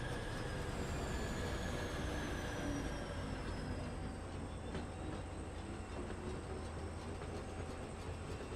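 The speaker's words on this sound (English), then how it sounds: "trains are very slow to pull off" A train in the factory-building game Foundry slowly pulls away, a steady dense rumble of rolling stock with faint tonal whines and light clatter running continuously at even loudness, with no voices.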